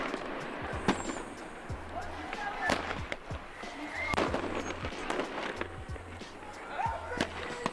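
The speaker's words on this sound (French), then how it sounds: "Voilà, des feux d'artifice," Fireworks going off during a riot in Argenteuil: sharp irregular cracks and bangs at varying distance, with shouting crowd noise and someone talking over them.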